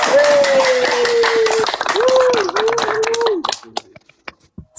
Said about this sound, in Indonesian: Wow, tepuk tangan semuanya